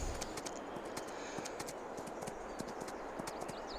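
Horse hooves clip-clopping in Farming Simulator 22 as a horse is ridden, a steady run of sharp, evenly spaced hoof strikes over a soft continuous background, moderately close and alone.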